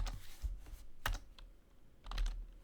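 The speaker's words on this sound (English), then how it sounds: "What we'll need to do is type in sudo juice shop" A command is typed on a computer keyboard while setting up a Kali Linux lab: a handful of close key clicks in an uneven rhythm, with soft thumps in between and a slightly louder cluster at the end.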